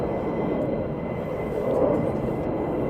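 A fighter jet taxiing at RAF Lakenheath gives a steady, broad engine roar heard from a distance, holding level without a clear rise or fall.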